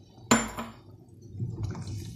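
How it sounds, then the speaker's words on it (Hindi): Water splashes into a pot of potato pulao (aloo tahari) with a sharp onset, then settles into a low simmering bubble and faint liquid movement, close and alone without talk. "इसमें पानी और डाला थोड़ा सा मैंने।"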